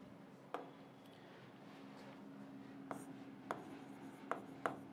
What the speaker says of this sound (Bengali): তাহলে আমরা যদি এখানে লিখি